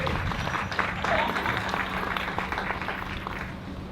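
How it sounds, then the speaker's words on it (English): Audience applause at a town meeting, following the Pledge of Allegiance, fairly steady clapping from a crowd at moderate distance with some background murmur, sustained for the whole stretch. "Let's give them a round of applause"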